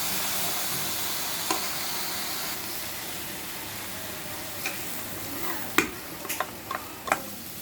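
Vermicelli frying in a pan with sugar, coconut, cardamom and a little salt gives a soft, steady sizzle, with occasional sharp clicks and scrapes of a spatula stirring, more frequent near the end.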